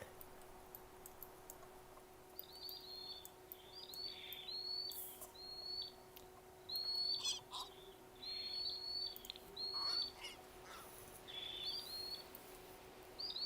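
Repeated short, high chirps from the low poly bird in The Sims 4 come in small clusters over a faint steady game hum, fairly quiet and with no talking.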